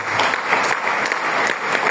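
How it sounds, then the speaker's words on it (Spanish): A church congregation applauds the Lord at a festive service, with dense, steady clapping from many hands filling the whole stretch at close range. "Vamos a darle un fuerte aplauso al Señor."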